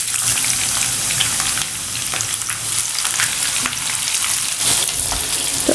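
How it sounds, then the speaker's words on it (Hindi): Onions frying in hot oil for a vegetable dum biryani, a loud, steady crackling sizzle with bursts of popping spitting throughout, no voices. "ऑयल अच्छी तरह से गर्म हो गया है, इसमें अनियंस को डाल देते हैं।"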